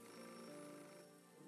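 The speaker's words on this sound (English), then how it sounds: "Oh, the phone's ringing again?" A telephone rings in the video game Beholder, a steady electronic ringing tone that sounds clearly on its own, with no talk over it.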